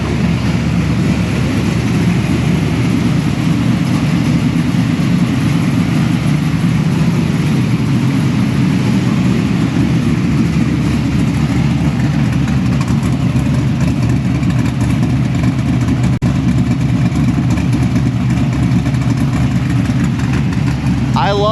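A mast-built LS3 V8 in a Camaro idles steadily and loudly up close, a continuous deep rumble with lopey texture holding for the whole stretch without clear revs.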